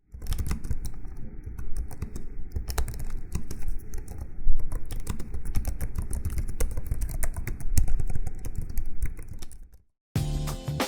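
Fingers type quickly on the short-travel, springy keyboard of a Razer Blade 15 Advanced gaming laptop, producing a dense, continuous patter of close keystrokes that stops briefly near the end.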